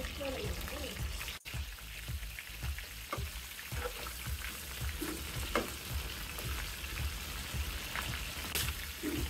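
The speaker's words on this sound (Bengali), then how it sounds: "তেল গরম হয়ে গেছে, এবার আমি মাছের মাথা ভেজে নেব।" Fish head pieces from a catla sizzle loudly in hot oil, a close, dense crackle with spitting pops. A single sharp knock lands early, and a voice is faintly audible beneath the frying.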